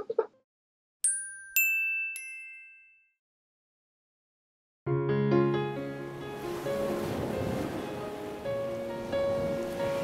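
Ocean surf with waves breaking and washing continuously, loud and close, after a few bright chime-like tones and a brief silence at the start.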